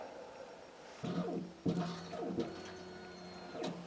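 An electric fuel pump on a car engine being tested with fuel injectors whines in repeated bursts as it builds pressure, with a steady mechanical hum and rising pitch sweeps, close and fairly loud.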